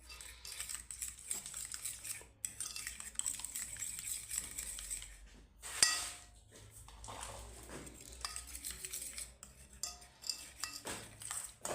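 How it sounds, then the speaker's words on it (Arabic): Metal spoon scraping and clinking against a dish while spices and ingredients are mixed for a light cauliflower tagine, a steady run of close, light scrapes and taps with one louder clatter midway. "في هذا الصحن نديرو التوابل كامل كما راكم تشوفوا. نحركوا جيدا المكونات"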